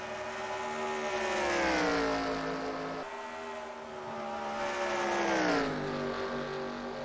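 Race car engines in the NASCAR Racing 2003 video game scream loudly and continuously, their pitch rising and falling as cars pass and shift, with no talk over them.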